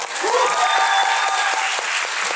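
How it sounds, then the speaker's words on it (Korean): Loud, sustained applause greets an actress from the musical The Devil: Eden at an opening-performance stage greeting, with dense clapping from a theater crowd filling the whole stretch. "큰 박수 부탁드립니다"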